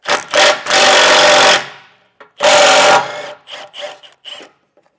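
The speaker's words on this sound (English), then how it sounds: "We need to take this nut out back here." A socket wrench ratchets loose a nut under a 2024 Ford during a base plate install. It gives two loud, close, rasping bursts of about a second each, followed by several short, quicker ratchet strokes.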